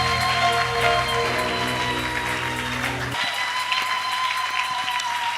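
A congregation applauds during a Sunday church service, producing a dense, steady wash of clapping. Sustained musical tones ring underneath for the first half, then the clapping carries on alone.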